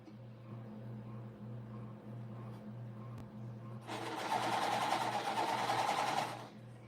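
A sewing machine stitches a puffed quilt pillowcase in one loud, steady whirring run of about two and a half seconds, close by, following quieter room hum and small handling noises.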